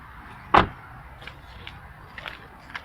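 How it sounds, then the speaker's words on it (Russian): A Honda Fit Shuttle's rear car door closing, one sharp metallic slam near the start followed by a few faint light knocks and clicks in a quiet interior. "с каким металлическим звоном консервные банки закрываются ваши двери"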